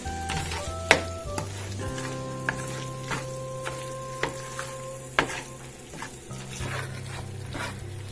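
Ground meat picadillo sizzles in a pot while a utensil stirs and scrapes it, giving a steady fry with scattered sharp clicks and knocks, close by. Soft musical tones play underneath.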